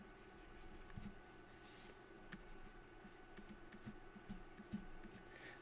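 Pencil drawing on paper, a faint, soft scratching of strokes with occasional small taps, quiet and close, over a low room hum.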